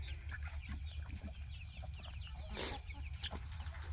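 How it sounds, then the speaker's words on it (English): Several chickens cluck on and off, mixed with ducks, in a farmyard at feeding time, with a steady low rumble and scattered outdoor noise underneath. "I've never seen such thirsty chickens. Thirsty chickens and duckies."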